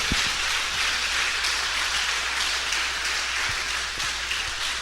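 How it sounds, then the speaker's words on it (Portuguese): A church congregation applauds loudly, the dense, sustained clapping forming an even rain-like hiss from start to finish. "vamos aplaudir bem forte a palavra de Deus"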